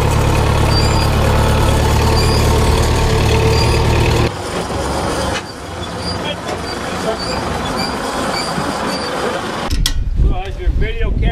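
Case diesel engine idling close by, a loud steady low rumble that drops in level partway through. People talk over it for much of the time.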